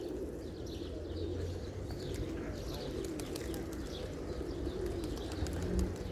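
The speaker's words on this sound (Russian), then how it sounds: "Ничего, голуби полетали." A flock of about 700 pigeons coos softly over a steady background of outdoor noise, with faint chirps and scattered clicks of wings or feet throughout.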